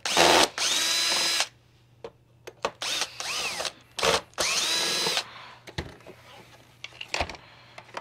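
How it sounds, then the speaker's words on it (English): Power screwdriver backing Phillips screws out of a SEBO X4 upright vacuum, several short whirring bursts close up with clicks and handling noise between them over a low steady hum. "You wanna take off the big Phillips screws right here."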